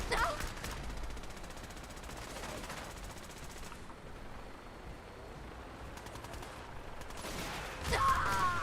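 Gunfire in the video game Fallout 4, a steady crackle of rapid shots running throughout with a louder burst near the end, set among game sounds.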